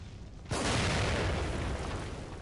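A gas canister explosion in The Evil Within erupts after half a second of near quiet: one loud, sudden boom that rolls into a long, dense roar and slowly fades, alone with no talk.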